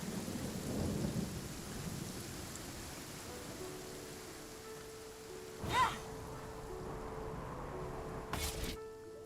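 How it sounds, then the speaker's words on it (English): Steady rain hissing in the video game Genshin Impact, broken by two sharp thunder cracks, the first midway and louder, the second near the end, with no talk over it. "It's raining again? This isn't good."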